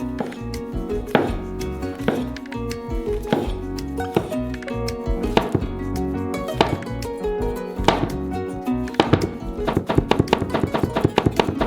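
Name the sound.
chopping mushrooms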